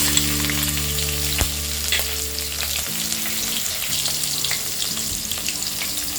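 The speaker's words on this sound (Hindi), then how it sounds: "तेल गरम हो गया है। इसमें हम डालेंगे 1 टीस्पून जीरा, 1/4 टीस्पून हींग, 3 ग्रीन चिलीज चॉप्ड" Cumin, asafoetida and chopped green chilies fry in hot oil in a pan for an aloo gobi dish, giving a loud, steady sizzle with crackling pops and no talk over it.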